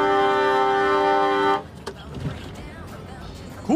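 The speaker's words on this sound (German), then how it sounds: "so eine Auto, beziehungsweise so eine LKW-Hupe ist schon mal nicht leise" A loud, sustained truck air horn blares for about a second and a half, then cuts off, leaving quieter outdoor noise and scattered voices.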